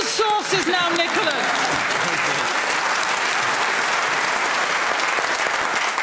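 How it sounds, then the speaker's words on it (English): Studio audience at a radio panel comedy show breaks into steady, loud applause that fills the whole stretch, with a voice speaking over the opening second. "the audience clap like that"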